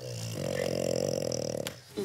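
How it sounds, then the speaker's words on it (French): A small dog gives a soft, rumbling snore, one long breath in close to the mic, followed by a brief snort. "Elle fait des petits ronflements."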